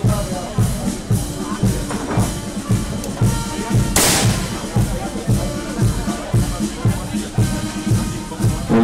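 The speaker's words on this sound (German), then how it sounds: "Ein Schuss von Fabian Rehle." A rifle shot cracks at a bird-shooting contest during a town shooting festival in Neheim, one sharp loud report midway amid a busy crowd hubbub and steady rhythmic music.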